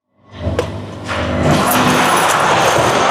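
Chevrolet C8 Corvette engine starting up and then droning steadily while driving, heard loud and close from inside, with no talk.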